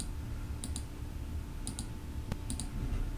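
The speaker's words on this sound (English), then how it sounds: "right click it, paste keyframes" A computer mouse clicking while keyframes are pasted in Krita animation software, with three pairs of quick, faint double clicks and a single sharp click in between over a low room hum.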